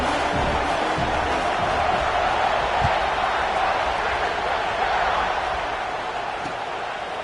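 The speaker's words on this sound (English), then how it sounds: "this crowd now ready to get behind them" A football stadium crowd roars and cheers just before a kickoff, a dense, steady wash of noise that fades slightly toward the end while a commentator talks over it.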